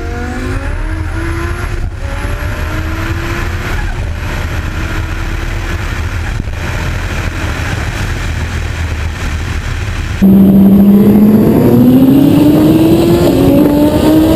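A 2,000 horsepower Lamborghini street racing a 500 horsepower turbo car, loud engines roaring steadily with rising gear pulls, growing louder and closer near the end with a strong whining climb.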